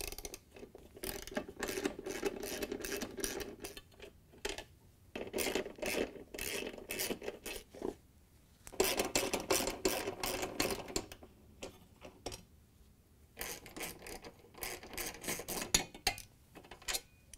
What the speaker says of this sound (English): We're going to use a half-inch socket with a ratchet to take out the bolts.